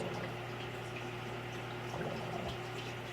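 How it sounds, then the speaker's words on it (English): Steady, gentle water trickle and bubbling from an aquarium egg tumbler in a quiet, shut-down fish room, a continuous low hum running under it throughout. "the egg tumbler and a little bit of more water trickling out of there"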